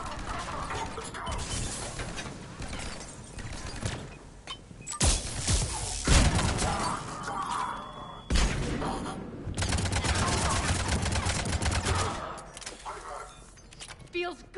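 A firefight in the Mass Effect game brings bursts of rapid gunfire, crashing impacts and shattering debris in waves, loud and close, with voices talking in between.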